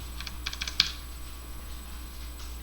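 Light tapping on a computer keyboard while Java code is being edited, a short cluster of quick keystrokes ending in one sharper press, then quiet room hum.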